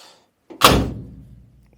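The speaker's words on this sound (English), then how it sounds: "Look when you close the door." A single solid thunk of a Jaguar XJC door shutting nearby during restoration, with a short dull resonance fading out afterward.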